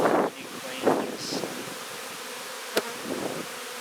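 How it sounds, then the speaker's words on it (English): Honey bees in a swarm buzz faintly in the background, with a few brief louder passes of individual bees close by and light wind rustle against the microphone. "People get frightened of bees"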